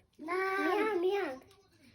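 A voice imitates a cat's meow, a single drawn-out, wavering mew lasting about a second, close and clear.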